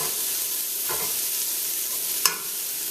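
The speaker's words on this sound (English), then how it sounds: "give this a quick stir to pick up all that garlic and onion flavor on the bottom of the pan" Cabbage with garlic and onion stirred in a pan over medium-low heat, a soft continuous sizzle with a couple of sharper utensil scrapes against the pan bottom.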